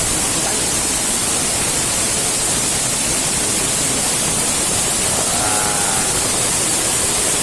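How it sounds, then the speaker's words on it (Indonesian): Goa Ilop waterfall in Aceh Timur, a dense, constant broadband rush of falling water, loud and unbroken with no voices. "Inilah air terjun Goa Ilop."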